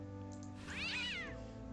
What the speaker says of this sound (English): Right, there's a cat.